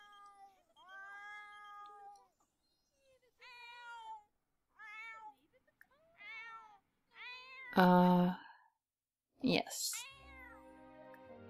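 A cat in The Sims 4 game meows repeatedly in short rising and falling calls, well spaced and clear, with a louder burst near the end and a brief spoken word.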